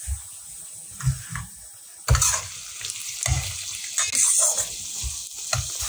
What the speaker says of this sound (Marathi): कांदा छानपैकी परतून घ्यायचा,